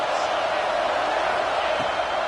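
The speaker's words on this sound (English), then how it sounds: "and this crowd is turning it up a notch." A college football stadium crowd between Longhorns and Bulldogs gives a broad, steady roar of noise during second down, dense and continuous from start to finish with no clear rise.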